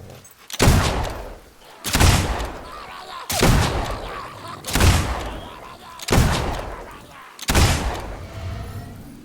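Gunfire from hogs on stilts in the video game Fable II: six heavy booming shots at a steady spacing of roughly one every 1.4 seconds, each decaying before the next, with a voice talking underneath.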